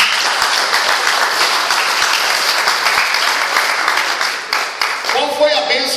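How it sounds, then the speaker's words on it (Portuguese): Church congregation applauding together, a loud, dense, sustained clapping that fills the room for several seconds, with a voice rising over it near the end. "Então aplauda o Senhor."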